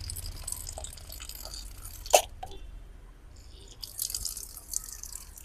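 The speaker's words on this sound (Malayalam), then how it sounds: "അപ്പം നമുക്ക് ഈ വെള്ളം അങ്ങോട്ട് ഊറ്റിക്കളയാം" Water drained off a bowl of soaked coriander seeds gives soft drips and one sharper splash near the middle, quiet over a faint background hiss, with no talking.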